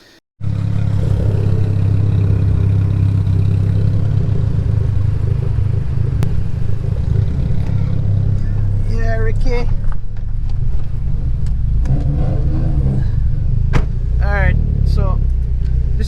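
Race cars driving out onto a track in a slow convoy, a loud steady engine drone with passing revs and clatter building toward the end, heard close by with no talk over it.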